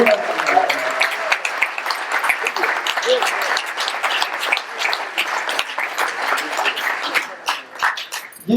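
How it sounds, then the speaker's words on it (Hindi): Applause from the audience at a Hindi stage play production, a dense, steady wash of many hands clapping at moderate distance for about eight seconds, with faint voices mixed in. "जोरदार तालियां हो जाए।"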